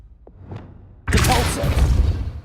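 A Confringo spell goes off in Hogwarts Legacy: a short cast sound, then a loud, abrupt fiery burst and rumbling blast that carries on for over a second.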